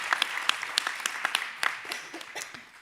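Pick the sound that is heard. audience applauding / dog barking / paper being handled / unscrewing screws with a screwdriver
audience applauding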